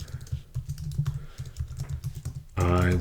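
Rapid typing on a computer keyboard, steady clusters of soft clicks under quiet background, ending in a brief loud tonal burst.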